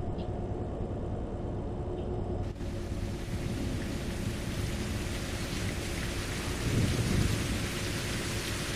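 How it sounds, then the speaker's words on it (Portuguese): Steady heavy rain pours down in a driving video game, with a low thunder rumble swelling near the end, the wash continuous and loud throughout. "Nossa, moçada, da onde veio essa chuva?"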